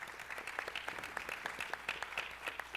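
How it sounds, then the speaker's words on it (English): A round of applause from a summit audience, scattered hands clapping at a distance with individual sharp claps standing out, fairly faint and with no talk over it. "Everybody give a round of applause."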